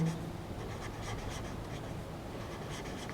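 Pen or marker scratching steadily across paper or a board during a Class 10 chemistry lesson on acids, bases and salts, soft continuous strokes close by under a constant background hiss.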